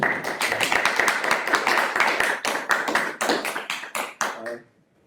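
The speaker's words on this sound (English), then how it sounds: "Please give a round of applause to David Harris for coming to us." An audience claps loudly and steadily for several seconds, the applause fading out abruptly at the end.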